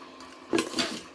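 Pasta noodles for a salad pasta being set onto a plate, giving two soft clattering contacts of food and utensil against the dish, close and fairly quiet with no talking.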